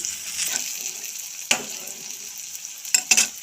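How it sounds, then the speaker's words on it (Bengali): Spice masala fries in oil in a pan with green chillies added, giving a steady close sizzle broken by a few sharp stirring scrapes and clinks, with no voice. "মশলা একদম ভুনা ভুনা করে কষিয়ে নিয়েছি একদম দেখো বন্ধুরা তেল বেরিয়ে এসেছে"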